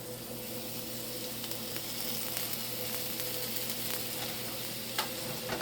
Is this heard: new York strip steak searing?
yes